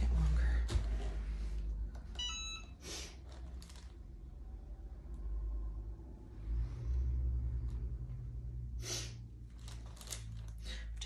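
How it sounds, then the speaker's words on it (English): Cars passing through a residential cul-de-sac, heard as a low, steady rumble with a couple of swells as vehicles go by, plus scattered small clicks and taps nearby. "I've got cars going by, which is why I keep looking out the window."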